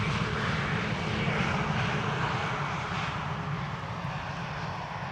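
An EasyJet airliner arrives on runway 18R at Amsterdam Schiphol, a steady broadband jet roar that swells slightly then holds as it passes at moderate distance.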